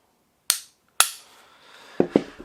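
A Glock pistol is dry-fired, giving sharp, close trigger clicks: two isolated crisp snaps followed by a quicker pair of softer clicks, with silence between them.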